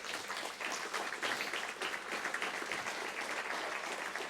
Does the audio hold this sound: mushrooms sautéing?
no